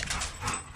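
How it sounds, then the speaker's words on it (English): Dog barking, a single brief muffled bark heard at a distance over low background rumble. "that's all he does is just bark all the freaking time"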